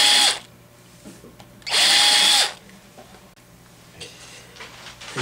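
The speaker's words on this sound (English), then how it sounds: "I just drill" Power drill boring a shallow starter hole, two loud close bursts of whirring, the first brief and the second longer, separated by quiet room noise.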